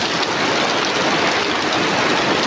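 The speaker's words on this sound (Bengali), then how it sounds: "কীভাবে বৃষ্টি হইতেছে দেখুন" Heavy rain pours during a Kalbaishakhi storm, a dense, loud, unbroken hiss of water beating down close by, with no pauses and no voices.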